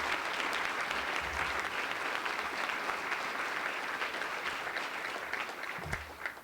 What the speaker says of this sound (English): let's give them one more round of applause and thank them for being here today